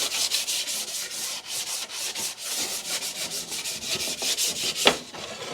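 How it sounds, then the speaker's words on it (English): Repeated short strokes of light sanding on a wooden window drip edge, a dry rhythmic rubbing heard up close with no one speaking. "So now just give it a little light sanding"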